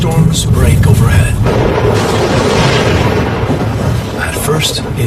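Deep thunder rumbles through an Okavango thunderstorm, a sustained low roll with sharper cracks near the start and end, partly under a speaking voice.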